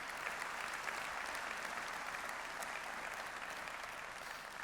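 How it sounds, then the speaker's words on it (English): Dense audience applause fills a keynote hall at a Google Cloud Summit in Munich, steady and continuous throughout at moderate distance. "Big round of applause."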